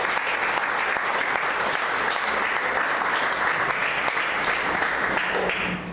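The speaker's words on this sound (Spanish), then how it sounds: "Denle una ofrenda de palmas." A church congregation claps steadily in a dense, sustained round of applause, even in loudness throughout and tapering slightly at the end.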